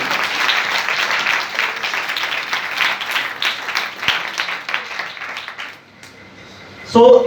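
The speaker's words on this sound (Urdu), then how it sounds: "تالیاں اپنے خدا کی طرف۔" A church congregation applauds in a steady, dense wash of clapping that holds for several seconds, thins out, then gives way to a brief loud voice at the end.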